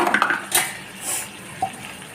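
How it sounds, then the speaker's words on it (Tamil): A metal lid clanks onto a cooking pot of jackfruit seed gravy, with a couple of short clinks and light kitchen clatter around it. No one is talking. "நம்ம ஒரு இது மூடி போட்டு நம்ம மூடிடுவோம்"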